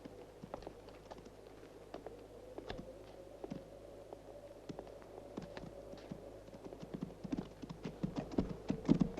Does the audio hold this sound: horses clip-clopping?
yes